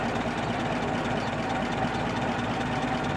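A brass-era Ford Model T engine running steadily with the throttle worked, a dense, even mechanical rumble and clatter, close and continuous.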